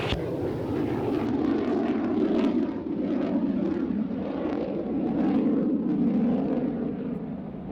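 A twin-engine Aerostar aircraft at an airshow taxis toward the runway with a continuous, loud engine drone that rises and falls slightly in intensity throughout.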